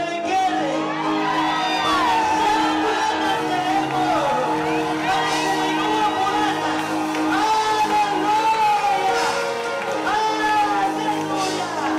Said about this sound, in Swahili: Sehemu pana wanawake pana vigelegele.